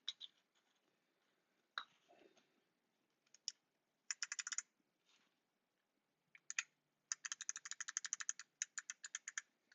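Clicky navy switches on a Duck Viper V2 keyboard are pressed in scattered single clicks, then in quick sharp bursts and a fast rattling run of keystrokes, crisp and close.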